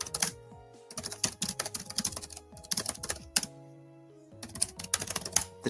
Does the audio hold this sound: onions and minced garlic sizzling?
no